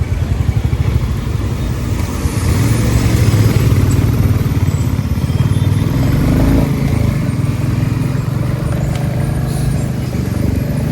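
A motorcycle ridden in the morning gives a loud, close, steady engine drone with a fast pulsing thrum and some wind rush, sustained for the whole stretch with no talk.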